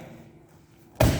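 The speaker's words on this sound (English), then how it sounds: "knock over a wave master" A wave master training bag tipped over onto a body shield lands with one loud, close thud near the end, after about a second of quiet room tone.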